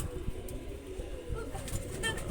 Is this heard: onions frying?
no